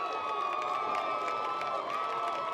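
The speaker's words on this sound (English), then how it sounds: "And the Davidson Warriors fans are cheering." Davidson Warriors fans cheer in the stands at a high school football game, a steady distant crowd roar with whoops and shouts, unbroken throughout.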